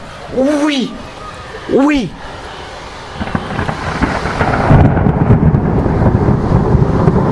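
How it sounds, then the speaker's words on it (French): Thunder from a secondary thunderstorm over Clermont-Ferrand and Vichy: two sharp, loud cracks in quick succession, then a long rolling rumble that swells and carries on to the end, with rain-like hiss underneath. "j'ai un nouveau orage qui s'est instauré à la suite"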